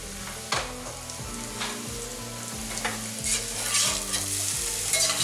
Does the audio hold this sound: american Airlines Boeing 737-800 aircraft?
no